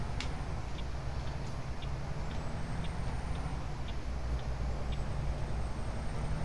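Truck straining to pull away from a standstill in the driving video game American Truck Simulator, with a steady, low engine drone and faint higher whines and brief ticks over it, quiet and constant.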